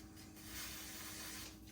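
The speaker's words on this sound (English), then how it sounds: "just gonna hold it in place with this cool spray" Cold spray hisses briefly onto a chocolate decoration to set it in place, a soft, faint steady hiss lasting under two seconds.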